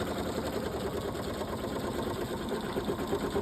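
A Pfaff Creative 3.0 embroidery machine stitching a red heart design, its rapid mechanical needle chatter running steadily and close throughout.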